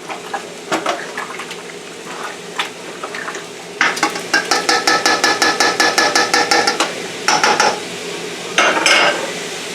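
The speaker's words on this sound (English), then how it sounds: "So get this all stirred up, mixed together." A spoon scrapes and clanks around a stock pot while a food mixture is stirred, first in scattered knocks, then in a fast, steady run of loud metallic strokes, pausing and resuming near the end.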